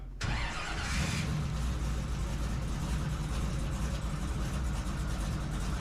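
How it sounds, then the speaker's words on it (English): A race car engine starts with a sharp catch, then settles into a steady idle at about 700 RPM, a loud, close, even rumble with no talk. "It's idling at like 700."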